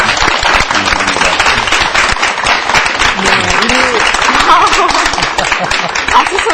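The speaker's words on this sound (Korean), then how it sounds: "박수 소리가 안 멈춰요" Sustained, dense applause from a studio audience in a Korean church broadcast studio welcoming a pastor and congregation members from Gwangju, steady and loud throughout with a host speaking briefly over it.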